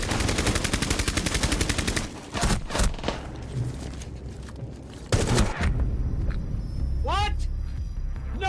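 Rapid video game gunfire bursts, loud and close, with several sharp shot clusters and a short high rising tone near the end, while someone talks over much of it.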